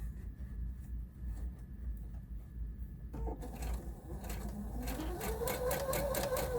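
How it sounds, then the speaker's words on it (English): A sewing machine hums steadily up close, its motor whir rising in speed partway through as it stitches fabric continuously. "I'm getting to know this sewing machine a little better"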